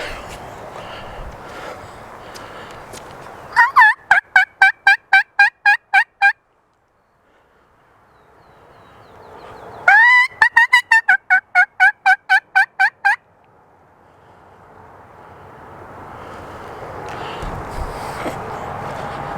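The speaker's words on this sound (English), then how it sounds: "So I actually get to hear a turkey today." A wild turkey gobbles loudly twice in rapid rattling bursts, each lasting a few seconds, with outdoor background noise between calls, during a Mississippi turkey hunt.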